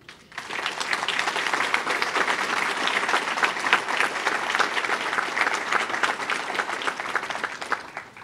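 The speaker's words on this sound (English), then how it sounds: "I'd like to have a round of applause for all the members" Sustained applause from the audience at the United Way of Greater Plymouth County 100th annual meeting, honoring the standing board members; dense, steady clapping from a large room that holds evenly for several seconds before ending.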